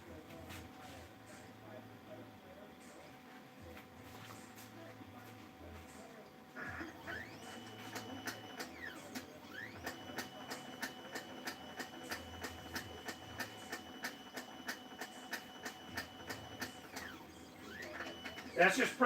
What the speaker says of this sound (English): That's just printing while I'm doing other stuff